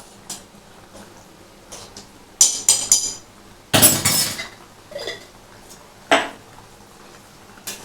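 A spoon clatters and scrapes in a pot while ghee is stirred into a soybean, potato and pointed gourd curry, several sharp metallic knocks and a brief louder scraping burst, close up.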